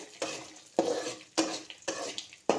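Almonds and melon seeds roast in a pan while being stirred, producing five sharp scraping strokes about every half second over a light frying crackle.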